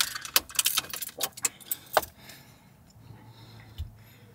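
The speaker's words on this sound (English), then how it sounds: "I'm gonna put the keys in" Keys jangle and clink in quick bursts for about two seconds as they go into a Subaru's ignition, close by, then a soft click and quiet hum.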